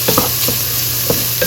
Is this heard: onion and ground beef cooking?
yes